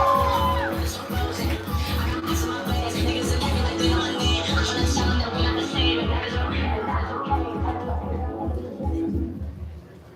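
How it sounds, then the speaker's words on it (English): Poetry slam audience claps in a steady, fast rhythm with loud crowd noise and cheering layered on top, dense and close throughout before fading at the end. "We're clapping, we're building energy."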